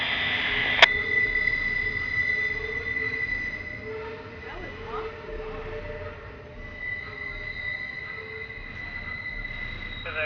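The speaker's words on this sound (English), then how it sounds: "That was M441, the southbound mixed train from Waycross, Georgia to Tampa, Florida." Southbound mixed freight train M441, running from Waycross, Georgia to Tampa, Florida, rolls past on the rails with a steady rumble and sustained wheel squeal, after one brief sharp tone at the start.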